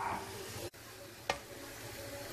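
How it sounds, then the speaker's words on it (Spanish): Conger eel sautéing with onion in a pan gives a soft, steady sizzle throughout, broken by a brief dropout and then a short sharp crackle midway. "Que se rehogue y que se cocine el congrio."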